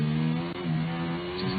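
A Ferrari-powered Formula 1 car at the 2016 Monaco Grand Prix, its engine holding a steady high-pitched whine near the rev limiter. The car runs on a damp track with spray.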